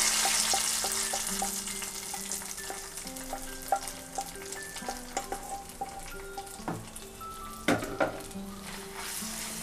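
Something fries in ghee in a pan for sweet pongal, a steady crackling sizzle with scattered sharp pops and spatters throughout, up close with no talking.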